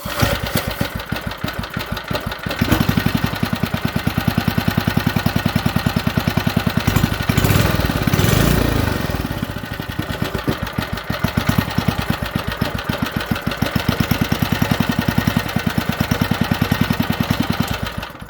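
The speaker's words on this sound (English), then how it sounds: "Anyway, wow, this thing runs pretty dang good." An old blue Briggs and Stratton small engine runs at a low idle, a steady, loud, rapid putter with a brief surge in the middle and no talking.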